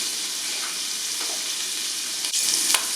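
Sausage browns in a pot with a continuous, even sizzle close up, with a couple of soft stirring knocks late on and no one talking.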